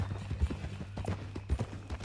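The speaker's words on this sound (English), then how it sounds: "That a new horse?" Horse hooves clip-clop at a walking pace in the Western video game Red Dead Redemption 2, moderately quiet, with a low steady hum underneath and no talking.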